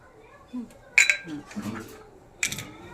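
Spoon scraping and clinking against a bowl while mixing boiled potato filling with cumin and red chilli for panipuri, a few close metallic chinks amid soft stirring, with a voice speaking over it.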